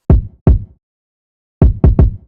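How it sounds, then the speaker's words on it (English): A drum loop from a jazz-sample hip-hop beat with an extra kick layered in for bottom end: two punchy, booming hits, a short gap, then three more in quick succession, loud and dry with no talk. "So I decided to layer it with another kick, and this is what it sounds like."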